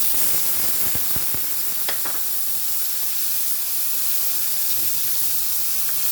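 Tomatoes dropped into a hot pan with onions give a steady, loud sizzle and hiss throughout, with a few sharp crackles near the start.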